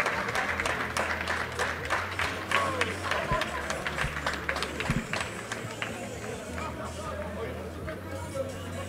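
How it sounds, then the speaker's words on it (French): Crowd applause and cheering at a football legends match celebrating 100 years of football in Mende, as players linger on the pitch with the trophy; steady broadband clapping through the whole stretch, with crowd murmur mixed in. "ça s'applaudit."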